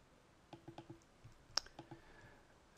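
A computer mouse clicking, about a dozen sharp, quiet close clicks in an uneven rhythm, some in quick pairs, over near silence.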